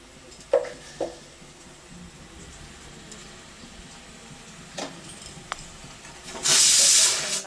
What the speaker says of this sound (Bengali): মিষ্টি দিয়ে এখন এটা ভাজা ভাজা হবে।